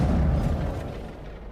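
Rocket launcher explosions in the video game Mass Effect Legendary, a deep, rumbling boom at the start that rolls and fades away over the following second.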